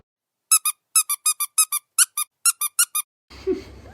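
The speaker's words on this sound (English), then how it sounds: "I'm gonna squeaky toy everything I just said out." A rapid run of rubber squeaky-toy squeaks, about fifteen sharp bursts in quick succession, used as a sound effect to blank out speech, ending with a short muffled noise.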